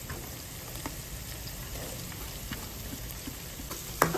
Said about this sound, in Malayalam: അരിഞ്ഞു വെച്ചിരിക്കുന്ന സവാള ചേർത്ത് കൊടുക്കാം.